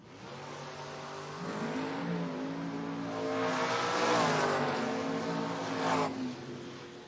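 Drag-racing Mustangs, including a blue 1970 car and a 1998 convertible, roar down the strip with a loud sustained engine drone that climbs in pitch as they accelerate, swelling mid-run and cutting off sharply near the end.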